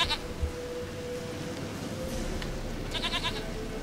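Goat bleats inside The Witcher 3: Wild Hunt, a short cry near the start and a longer wavering bleat near the end, over steady game ambience with faint background noise.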